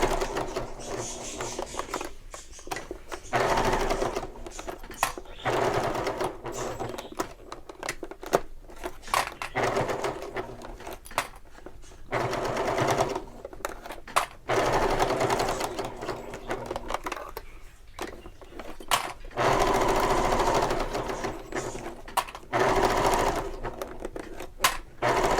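A sewing machine bastes around the edges of a bag pocket, running in steady bursts of rapid stitching separated by short pauses, close and fairly loud throughout.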